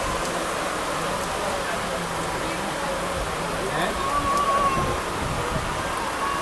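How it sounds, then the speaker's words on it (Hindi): Steady heavy rain hisses continuously at moderate level during a train journey, with a faint buzzing hum underneath. "अब देखिए बारिश कितनी तेज़ हो रही है।"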